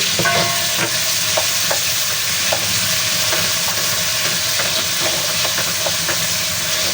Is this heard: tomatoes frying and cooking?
yes